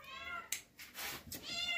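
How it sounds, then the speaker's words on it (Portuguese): A cat meows several times from up on a roof, short plaintive calls at moderate distance, quiet and fairly clear. "Olha o gato ali em cima do telhado ali, ó."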